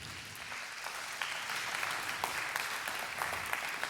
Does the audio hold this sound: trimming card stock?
no